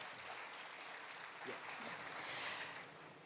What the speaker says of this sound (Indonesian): Tepuk tangan yang meriah buat Allah kita.